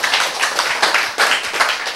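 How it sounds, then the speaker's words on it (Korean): Audience at a Korean church sermon clapping together, a dense burst of claps in several surging waves lasting about two seconds, loud and close with no talk over it. "박수."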